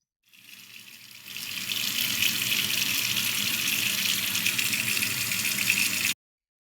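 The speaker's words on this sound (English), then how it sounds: "the sound of a water faucet running" A water faucet runs in a steady, close hiss of pouring water into a sink for several seconds, starting softly, then holding constant before cutting off abruptly.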